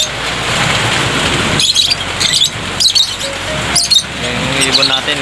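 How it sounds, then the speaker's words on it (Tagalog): Heavy rain hisses steadily in a rainy-season downpour, with bursts of sharper splashing or bird chirps cutting through and voices briefly audible. "Lakas na ulan dito."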